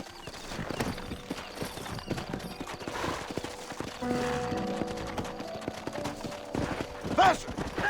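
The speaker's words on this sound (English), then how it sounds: "Horses are over here!" Horses gallop in Red Dead Redemption, a quick run of clip-clop hoofbeats with occasional whinnies, accompanied by scattered mechanical clatter, game noise and bits of talk.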